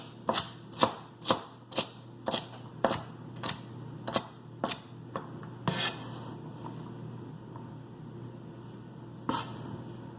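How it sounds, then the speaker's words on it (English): A knife rough-chops celery stalks on a cutting board in a brisk run of about a dozen sharp, close chopping strikes with a steady rhythm, then a pause and one last chop near the end. "We're going to do the same thing as we did with the carrots, try to make them roughly chickpea size and just give them that rough chop."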